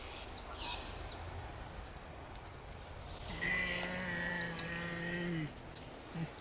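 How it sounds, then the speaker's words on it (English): A low, drawn-out growl from a native Tasmanian animal, with a tonal, whining edge, rises for about two seconds against a faint outdoor background. "the growl you heard is real"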